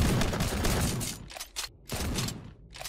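Pistol gunfire in the Titan Slayer 2 VR video game: a dense, rapid volley of loud shots that thins into separated bursts with short gaps.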